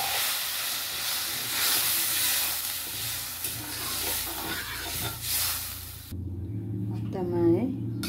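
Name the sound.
water boiling in a pan for spinach fish curry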